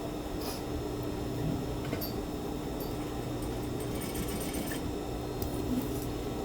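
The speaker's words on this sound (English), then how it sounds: "And you're sewing in a circle." A sewing machine stitches a blouse collar in a circle, giving a steady close mechanical whir with a fine rapid needle rhythm and faint clicks throughout.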